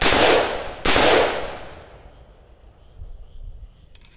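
Two sharp, loud rifle shots from a Mark 18 with a 10.3-inch barrel firing Tula 55-grain ammunition through a bare muzzle, fired in quick succession with long ringing decay trailing away afterward.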